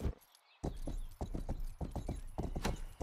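A noble's prized horse in a video game clip-clops with a series of distinct hoof strikes after a brief silence, at a moderate, uneven pace and fairly close.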